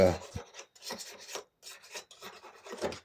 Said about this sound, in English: I'll just take a little small utility blade, just scrape it off